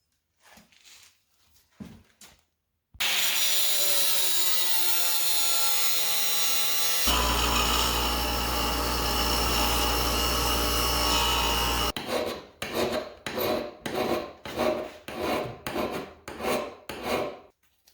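Rasping abrasion on a wooden handle for a roughing gouge, first a few faint scrapes, then a long continuous grinding whine, followed by a series of rhythmic back-and-forth sanding strokes.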